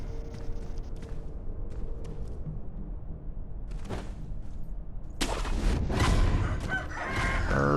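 A rooster crows in the video game Sekiro, with sparse quiet sounds early on, then a loud, bright burst after about five seconds that continues to the end.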